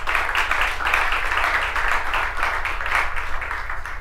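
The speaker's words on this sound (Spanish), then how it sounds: "Démosle un aplauso al Señor" Sustained applause from a church congregation fills the room, a dense steady wash of clapping with no pauses, loud and continuous throughout.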